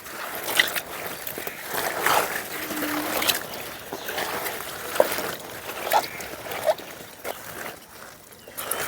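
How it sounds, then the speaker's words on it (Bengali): Chopped taro leaves being washed by hand in a basin of water, with repeated close sloshes, splashes and trickles at an irregular rhythm and no talking. "এখন পরিষ্কার করে কচু শাকগুলো ধুয়ে নেব"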